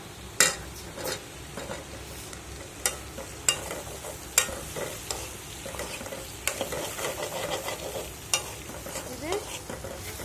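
Dried fish (shutki) curry stir-fried in a pan, with a steady sizzle under repeated sharp scrapes and knocks of a spatula against the pan, close and fairly loud, no talking.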